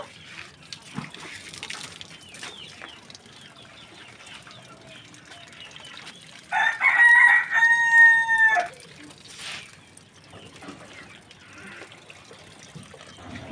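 A rooster crows loudly for about two seconds in a rural yard, with chickens clucking and faint trickling water around it as the birds run toward water being given to plants.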